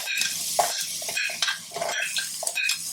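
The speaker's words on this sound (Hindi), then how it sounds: "2 से 3 मिनट के लिए इसको यहाँ पर हम फ्राई करेंगे" Chopped fresh garlic and onion fry in oil in a frying pan, with a steady close sizzle broken by repeated scraping stirs of a utensil against the pan.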